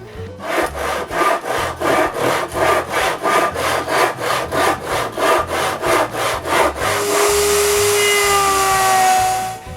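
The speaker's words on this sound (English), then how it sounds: "When the shape of the sill is finished, I cut a notch on both sides, the width of the window sides." A wooden window sill for a cottage window being notched with a hand saw, loud close strokes in a steady back-and-forth rhythm for about seven seconds, then a continuous rising whine as the cut ends.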